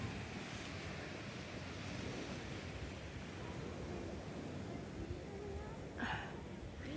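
Sea waves wash steadily onto the shore in a continuous broadband surf roar, with wind buffeting the microphone throughout and a brief faint sound near the end.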